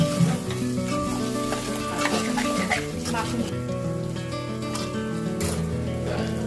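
Boi fish curry with home-ground masala stirred and cooked in a pan, a steady sizzle with scraping spoon strokes against the metal, close and continuous, with background music playing throughout.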